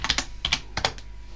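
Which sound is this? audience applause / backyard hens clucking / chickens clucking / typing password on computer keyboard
typing password on computer keyboard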